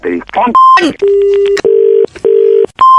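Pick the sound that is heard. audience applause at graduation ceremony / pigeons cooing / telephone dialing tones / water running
telephone dialing tones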